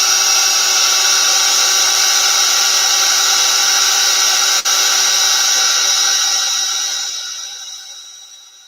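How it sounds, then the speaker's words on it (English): A hair dryer-style heat tool runs at steady close range over embossing glaze on a jewelry craft piece, a loud continuous whirring hiss that briefly dips, then fades and trails off near the end. "I don't know if you can hear me over the dryer"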